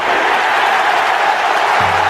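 Crowd applause fills a video game Olympic athletics stadium at the London 2012 Games, a steady, dense wash of clapping and cheering that holds at even loudness throughout, with a faint low tone entering near the end.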